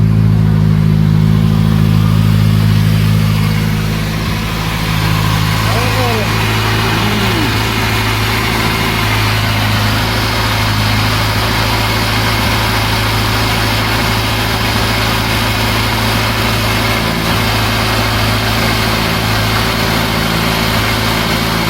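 A Honda EG car engine starts up and settles into a steady, loud idle close by, its low rumble continuous throughout with a brief dip early on.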